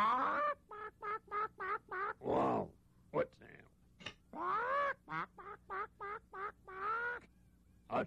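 A chicken's clucking sounds alternate with a voice mimicking them in a children's program: a rapid series of short, loud, pitched bursts in steady rhythm, interrupted by longer vocal calls.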